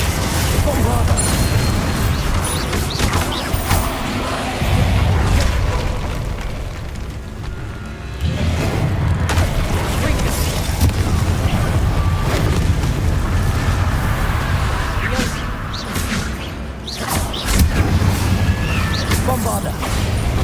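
Repeated Bombarda spell blasts in the video game Hogwarts Legacy, a run of loud booming explosions with crashing debris, with a voice talking over parts of it.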